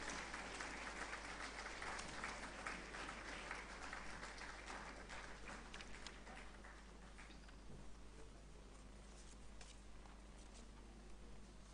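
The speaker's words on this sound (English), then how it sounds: "A big round of applause for Ms. Tanika Bisht." An audience claps steadily for an award winner at a Statistics Day celebration ceremony, a dense continuous wash of applause that eases slightly toward the end, with no talking over it.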